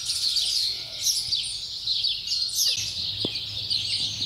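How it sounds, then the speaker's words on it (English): A quail calls from a tree beside a garden amid other chirping birds, with repeated high tweets and calls at moderate distance over a light outdoor background. "Mr. Quail sitting up on the tree."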